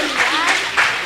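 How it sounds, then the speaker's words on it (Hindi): Audience applause for a young girl at a Bait Bazi poetry contest in Aurangabad, a brief burst of clapping swelling in two or three waves with voices mixed in. "शाबाश, जोरदार तालियां बच्ची के लिए।"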